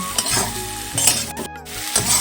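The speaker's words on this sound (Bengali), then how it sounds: "আলুগুলিকে মশলার সাথে কষিয়ে ভাজা ভাজা করে নেব" Spiced new potatoes sizzle and fry in a pan while being stirred, with steady sizzling, scraping stirs and a few light utensil clinks, close and alone.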